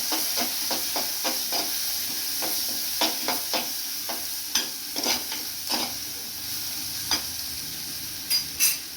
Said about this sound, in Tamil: வெங்காயம் பச்சை மிளகாய் எல்லாம் சேர்க்குறோம் ரெடியாக திருப்பி நல்ல வடிவாக தான் வதங்கட்டது